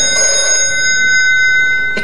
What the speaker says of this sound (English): when one day the phone rang.